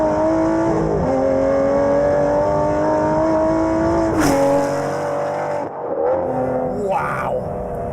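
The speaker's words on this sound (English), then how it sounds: "One of the best car noises ever." Aston Martin Vantage GT12 engine revving loudly, a sustained high-pitched roar that climbs and holds, then drops sharply and trails off into softer engine noise with a brief whine.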